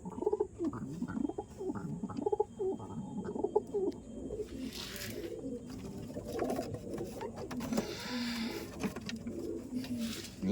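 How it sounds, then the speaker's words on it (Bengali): Captive female pigeons in a home loft coo in repeated low, throaty rolls, close and fairly loud, with overlapping calls and no talking. "এই পায়রা কিছুদিন আগে ধরলাম"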